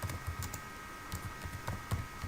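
A computer keyboard taps out a quiz question in quick, light clusters of keystrokes, close and quiet with short pauses between bursts.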